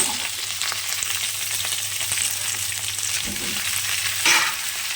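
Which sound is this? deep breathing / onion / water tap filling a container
onion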